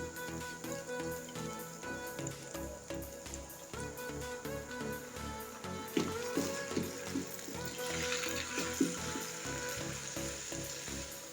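Sauce poured into a hot pan of homemade restaurant-style chicken chow mein over a medium flame, setting off a steady close sizzle, with faint clinks and stirring taps partway through and the frying growing louder toward the end.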